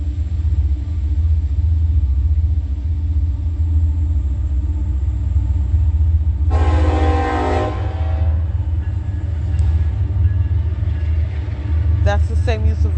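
A train horn blasts once for about a second, fairly distant, over a constant low rumble of traffic or machinery, with a faint higher tonal call near the end.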